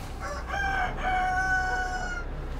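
A rooster on a village farmstead near a border crows one long, drawn-out call that rises and holds, fairly close and clear, with faint clucking and quiet outdoor background around it.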